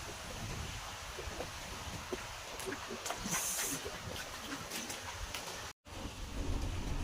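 Heavy rain pours steadily over waterlogged farm fields, a dense, even hiss that fills the whole stretch, with one brief dropout near the end.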